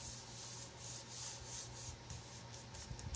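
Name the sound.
hand rubbing paper down over Mod Podge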